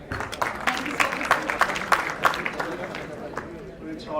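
Scattered clapping from a conference audience, individual claps audible as uneven sharp bursts rather than a full roar, moderately close and thinning out toward the end.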